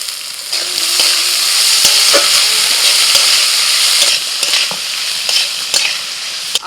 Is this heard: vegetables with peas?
yes